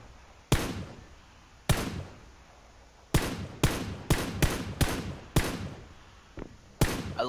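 Gunshots in PlayerUnknown's Battlegrounds ring out as about a dozen sharp, separate cracks, single shots and quick pairs spaced irregularly, each with a short echoing tail.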